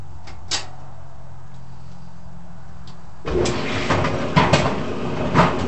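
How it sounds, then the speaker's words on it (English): A low machine hum runs quietly, then a clothes dryer's tumbling drum starts up loudly after its power cord was replaced with a four-prong one, with irregular thumps and rattles from something knocking around inside. "it sounds like there's something in the dryer"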